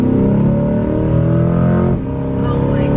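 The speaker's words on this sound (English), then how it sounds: "So you hear the motor more than you hear the exhaust." Engine of a 2020 Chevrolet C8 Corvette revving loudly up close, a steady climbing roar with a brief dip near two seconds before the revs rise again.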